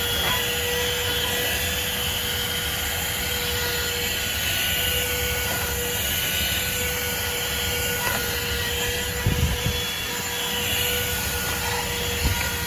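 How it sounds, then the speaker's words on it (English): A THISWORX corded portable car vacuum cleaner runs steadily as it sucks up dust, a constant close whine and airflow roar holding throughout, with a few brief bumps and rattles as the nozzle moves around. "it takes a few tries for it to actually suck up all the dust, but in the end it does suck up most of the dust"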